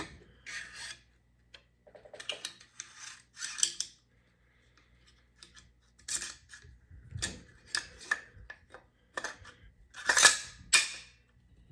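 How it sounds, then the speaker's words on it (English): Bolt carrier group slid into an AR10 upper receiver, heard as a run of close metallic clicks, scrapes and sliding rasps in short separate bursts with quiet gaps between. "Slide your bolt carrier group in."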